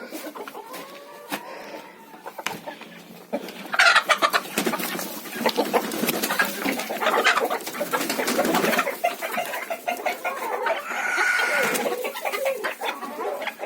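Hens let out into a village farmyard in the morning cluck and coo almost without pause, close by and fairly loud, with bird calls overlapping throughout.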